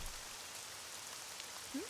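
Steady rain falling outdoors by a porch in a Mardi Gras-themed Nancy Drew video game, a soft continuous patter with no talking.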